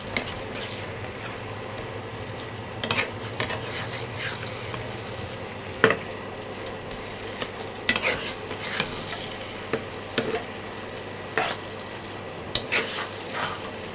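Tomatoes stirred and frying in a pan with turmeric and chili powder, a soft steady sizzle broken by repeated spoon scrapes and clinks at close range, with no talk.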